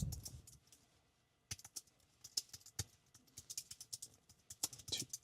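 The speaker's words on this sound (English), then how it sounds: "As I type" Fingers typing on a computer keyboard, a quick irregular patter of close, light key clicks that begins after a short quiet pause and keeps going, fairly faint with no speech.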